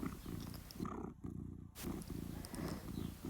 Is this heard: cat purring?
yes